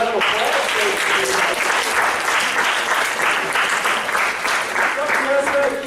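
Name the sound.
audience round of applause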